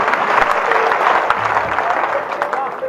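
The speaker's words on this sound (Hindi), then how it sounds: "हाथ उठा के ताली बजनी चाहिए साहब।" An audience at a Hindi kavi sammelan poetry gathering claps in a dense, loud burst of applause that continues steadily, with crowd voices mixed in.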